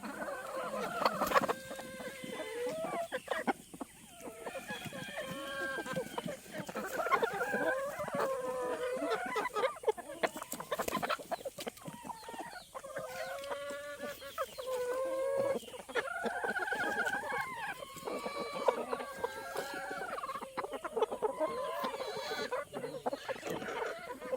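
Pet chickens cluck steadily and overlapping throughout feeding time, a dense flock chorus close by with occasional louder calls and a brief crow-like call, no one speaking.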